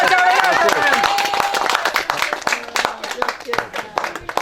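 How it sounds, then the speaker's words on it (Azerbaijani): A small group at a tour gathering breaks into a burst of hand clapping that fades into scattered claps, with people talking and calling out over it throughout. "Alqışlayın"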